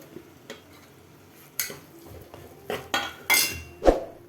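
A spoon scrapes and clinks against a pot while chicken is stirred with turmeric, salt and spices for biryani, giving scattered metallic knocks that grow louder toward the end, with no talk.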